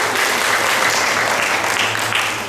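Audience applause at a school plaque-unveiling ceremony, a dense, steady wash of many hands clapping that fills the room, loud and continuous for the whole stretch, with no talking over it.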